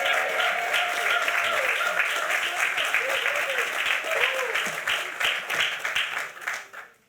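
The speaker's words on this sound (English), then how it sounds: "Give him a great round of applause." Applause from the audience at a recreation center ribbon cutting ceremony, sustained and fairly loud with a few voices mixed in, then tapering off at the end.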